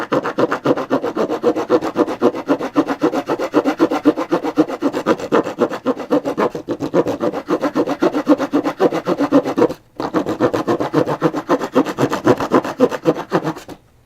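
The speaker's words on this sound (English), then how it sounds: "Now the other aspect of this knife is it has that sort of saw back, so you should be able to use it essentially" The saw back of a multifunction axe rasps steadily through wood while notching, fast rhythmic back-and-forth strokes continuing close and alone, with one brief pause near the end.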